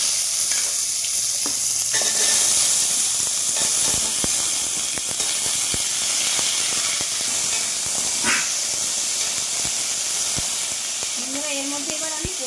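Cut radish and pumpkin pieces hit a hot wok with a loud, steady sizzle and steamy hiss, stirred now and then with scraping clinks, close and continuous throughout.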